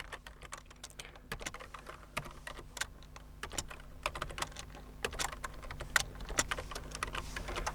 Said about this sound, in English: So now we need to type it in here